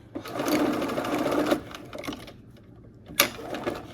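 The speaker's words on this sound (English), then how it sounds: "I'm lifting my presser foot and I'm just working that fabric around there" Sewing machine stitching red and yellow fabric for a flower center on a quilted summer project, running in a steady burst for about a second and a half, pausing, then starting again briefly, close and fairly loud.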